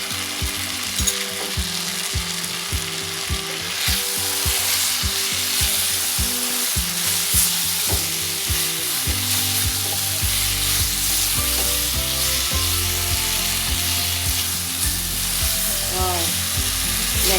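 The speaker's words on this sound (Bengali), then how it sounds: "এখন দিয়ে দিচ্ছি যে পেস্টটা তৈরি করেছিলাম, টমেটো, চিলি টমেটো, সেই উপকরণটা এটার সঙ্গে এখন মিক্সড করে দেব।" Tomato and chili paste frying in ginger ghee while being stirred, a loud steady sizzle with repeated scraping strokes of the spoon against the pan, close up.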